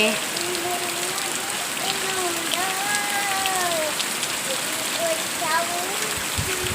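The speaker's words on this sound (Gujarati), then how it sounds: "આ જોઈ શકો છો કેવો વરસાદ પડે છે" Steady rain hisses down hard and close, with a voice talking over the downpour throughout.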